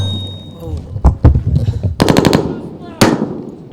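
A-10 Warthog cannon fire as rapid, loud bursts: sharp impacts and a dense rattling burst in the middle, then another sharp blast, with excited shouting between the bursts.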